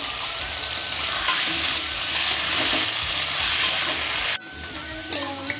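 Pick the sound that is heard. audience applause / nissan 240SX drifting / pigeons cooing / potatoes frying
potatoes frying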